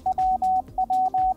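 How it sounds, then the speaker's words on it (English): Quick Morse code beeps at 20 words per minute in a clear single tone, rapid mix of short dots and longer dashes, loud and crisp over faint background music. "And 20 words per minute sounds like this,"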